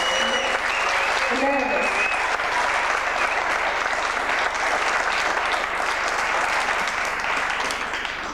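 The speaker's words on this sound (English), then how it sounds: "let's bring Al Young up with a big round of applause" Big round of applause for a poet taking the stage at a poetry tribute event, dense continuous clapping from a large audience, loud and sustained, with a voice briefly speaking over the start.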